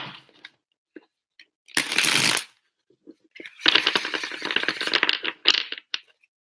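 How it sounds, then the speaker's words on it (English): Small angel or tarot cards shuffled by hand, two separate bursts of crisp riffling and flicking, close and quiet, with silence between. "I shuffle actually a bunch of different ways"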